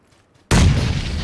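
Grenade detonating in the shooter game Battlegrounds, a single sudden loud blast with a sustained rumbling tail after a short quiet lead-in.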